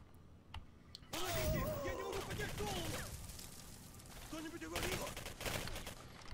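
Gunfire in the video game Singularity, dense bursts of shots mixed with game noise and someone talking over the action, moderately loud throughout.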